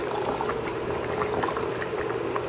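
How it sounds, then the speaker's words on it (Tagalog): Hot vegetable broth pours steadily into a lunch container, a continuous close liquid gush and splash lasting throughout with no talking over it. "Tapos dito ko na lang ilalagay yung sabaw."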